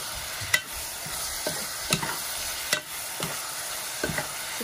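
Red ant eggs roasting in a pan for a Thai ant egg salad, a steady faint sizzle with a few soft stirring scrapes at irregular intervals.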